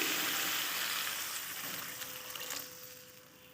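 Water poured into frying masala for a thin brinjal curry produces a soft, bubbling sizzle that gradually settles and fades over a few seconds.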